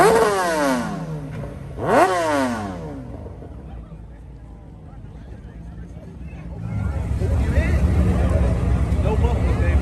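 A 2021 Dodge Charger Scat Pack Widebody engine with no muffler, revving hard twice in sharp bursts at a car meet, then idling rough and loud, with crowd noise and talk around it.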